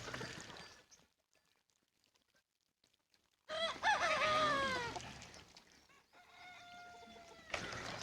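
Desi free-range village chickens on a natural farm give a loud burst of clucking and crowing after a quiet stretch, then softer calls and a final sharp squawk, close by with no talk.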